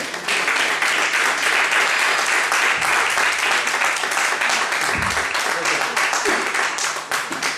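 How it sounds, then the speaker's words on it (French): A church congregation bursts into sustained applause and clapping that fills the room at full volume throughout, with voices and cheers mixed into the dense, steady wash of hands. "Est-ce qu'on peut acclamer le Seigneur?"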